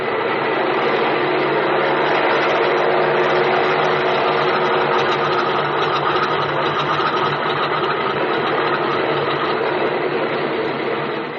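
An airplane engine runs for takeoff as a radio drama sound effect, a loud, steady droning roar that holds constant throughout with no voices over it.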